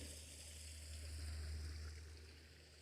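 Water rushes steadily in a continuous broadband wash, with a low rumbling undertone, moderately quiet and unbroken throughout.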